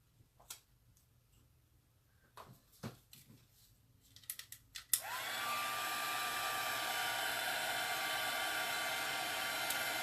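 A hair dryer switches on after a few ticks and light clicks of craft handling, then roars steadily and loudly, drying chalk paste on a pumpkin stencil project.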